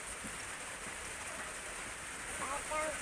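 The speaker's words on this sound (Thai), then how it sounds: "ฝนกระตก" Steady rain falls outdoors as a continuous broadband hiss with a faint patter, a few brief vocal sounds rising near the end.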